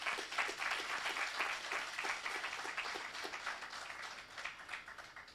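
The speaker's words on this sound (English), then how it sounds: "I'd like you to join me in a round of applause" Audience applause at a grand opening ceremony for a manufacturing and engineering centre of excellence: steady, fairly faint clapping from a crowd, sustained evenly for several seconds.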